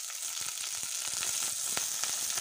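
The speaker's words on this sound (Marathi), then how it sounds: "तेल छान गरम झालं की यामध्ये अर्धा छोटा चम्मच मोहरी टाका, 3 लाल मिरच्या," Mustard seeds, red chillies and curry leaves tempering in hot oil for coconut chutney: a close, continuous sizzle dotted with sharp crackling pops.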